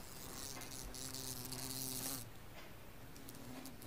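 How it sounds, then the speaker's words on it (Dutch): A fly buzzing indoors, a continuous droning hum that holds steady for about two seconds and then fades to a fainter, thinner buzz, with no voices. "Waar is de vlieg?"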